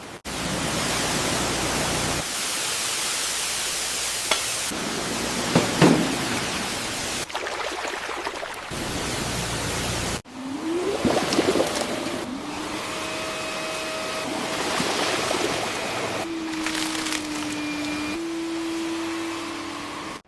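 Steady broadband water spray hisses against an abandoned rusty truck, blasting off layers of mud, moss and rust, with a brief break midway and a few faint tonal machine whines joining later; no voices.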